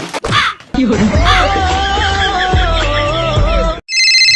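A mobile phone rings loudly indoors with a warbling melodic ringtone that plays for about three seconds, followed by a short burst of bright electronic tones.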